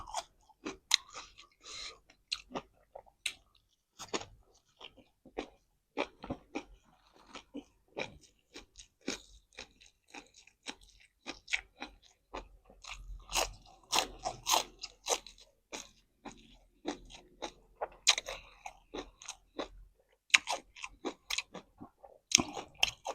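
Close, crisp crunching and chewing of tough, crunchy sour fermented pork tendon, irregular bites repeating throughout, fairly quiet with no talking.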